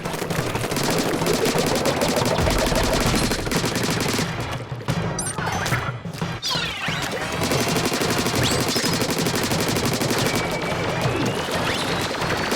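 Loud, dense turret fire in Splatoon 3, a continuous rattling barrage with crashing splats layered over it, dipping briefly midway before resuming at full intensity.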